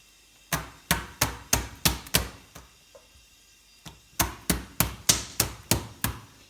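Lagman noodle dough slapped repeatedly against a work surface: a run of six sharp, evenly spaced thwacks, a brief pause, then another rapid series of seven close, loud slaps.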